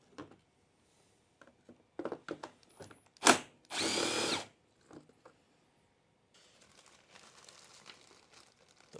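An impact wrench removes the fuel tank bolts on a Yamaha Grizzly 660 ATV in two close, loud bursts, one very short and one lasting about a second, amid quiet rustling and handling noises.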